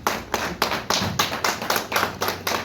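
An audience at an honour ceremony claps in unison, a loud, steady rhythm of about three sharp claps per second with no voices over it.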